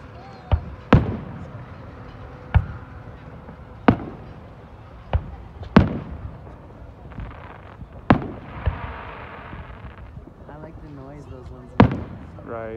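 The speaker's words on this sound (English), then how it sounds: "Just watch the fireworks." Fourth of July fireworks burst in Fernley, Nevada, with about ten sharp booms at uneven intervals, some near and loud, others softer and farther off, while people chat nearby between the explosions.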